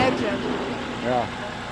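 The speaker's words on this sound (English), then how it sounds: "Diesel. Little turbo. Runs nice." A small turbo diesel engine idles at a firewood expo, a low, even rumble running beneath nearby voices talking over it.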